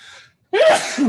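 A single close, loud human sneeze follows a short sharp intake of breath and a brief pause, erupting in a burst that trails into a vocal tail.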